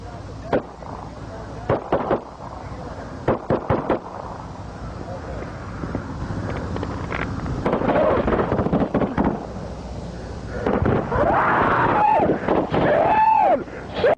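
Sharp gunshots from a police dash cam roadside shootout between a young deputy firing his service pistol and an advancing gunman, a burst of loud cracks at the start and more shots later among wind noise and other commotion.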